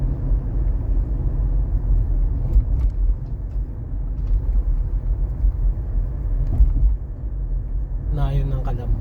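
Road traffic on the SLEX highway toward San Pablo, Laguna, heard as a constant heavy rumble of cars and trucks passing close by, with people talking over it throughout.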